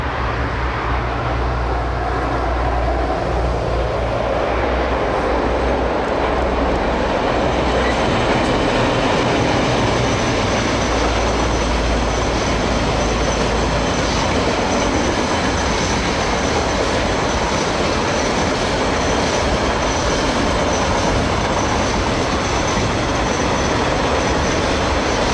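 A train rumbles steadily along the track beside Otago Harbour at Blanket Bay, Dunedin, a continuous loud roar with rhythmic clatter and faint wheel noise throughout.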